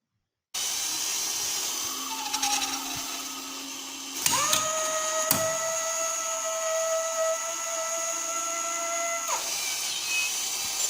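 A motor-driven dual conveyor workcell with a height gage sensor runs with a steady mechanical whine and hum, starting with a sharp clack and broken by a few distinct clicks before it settles and stops.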